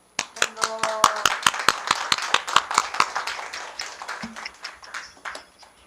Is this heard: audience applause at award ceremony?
yes